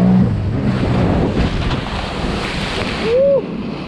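Sea-Doo Spark Trixx jet ski skimming over waves and boat wake, a steady loud rush of water spray and wind buffeting the microphone, with a brief rising engine whine near the end.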